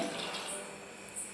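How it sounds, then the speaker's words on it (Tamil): Water is poured into a pot of sambar with asafoetida, turmeric and sambar powder, a short close splashing pour that eases off over about a second. "தேவைக்கேற்ப தண்ணி ஊற்றிக்கோங்க."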